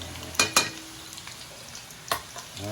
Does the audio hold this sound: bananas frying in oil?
yes